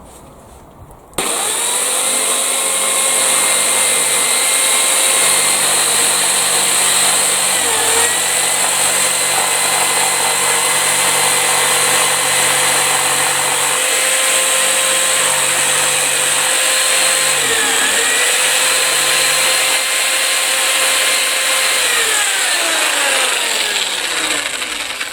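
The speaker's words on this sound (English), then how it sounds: "I'm just going to take an edge off it now, using the jigsaw for this one." A jigsaw cuts the edge off a wooden garden gate, starting abruptly and whining steadily and loudly for over twenty seconds, its pitch dipping briefly a few times as the blade loads into the wood.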